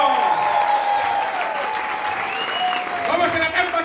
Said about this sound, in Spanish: les vamos a pedir importante, importante que aplaudan